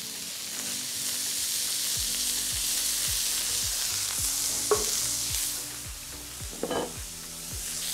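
Carrots and onions sizzling in olive oil on an outdoor brazier plancha, a steady close hiss with rhythmic scraping strokes of a utensil and a couple of light clinks, no voices.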